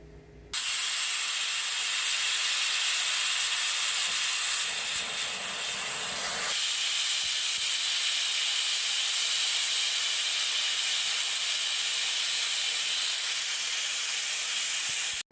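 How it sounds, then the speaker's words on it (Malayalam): A pressure cooker cooking dal on a gas stove lets out a loud, continuous hissing steam whistle that starts abruptly and holds steady for over fourteen seconds, close and alone. "രണ്ട് ഫീസിൽ അടിയണ വരെ നമുക്ക് വെയിറ്റ് ചെയ്യാം"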